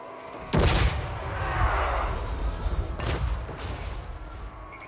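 Cannon artillery in the battle game Total War: Warhammer 3 fires two heavy booming shots a few seconds apart, each followed by a rolling rumble under battle noise.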